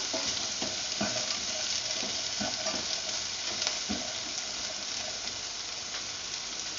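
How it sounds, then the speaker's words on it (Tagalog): Okra stir-fry with dried shrimp sizzling steadily in a pan while a utensil stirs it, with scattered scraping knocks over a continuous frying hiss; no voices. "Give it a stir. Mix it up and stir occasionally."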